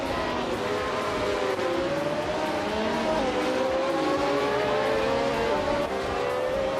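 A 1971 Brabham BT34 race car engine drones through a race, its pitch rising and shifting as it revs, with other cars' engines blending in the background.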